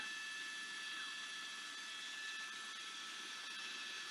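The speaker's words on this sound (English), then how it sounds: "2 law enforcement helicopters following his each and every move" Law enforcement helicopters hover overhead during a Southern California police car pursuit, a faint, distant, steady rotor-and-turbine drone with a thin high whine, continuous and unbroken, with no voices.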